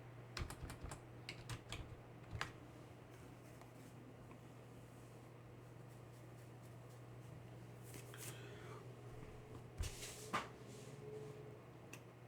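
Quick bursts of keystrokes on a computer keyboard as a Linux command is entered in a terminal, clicky taps in short clusters followed by longer sparse strokes, close and moderately quiet over a steady background hum.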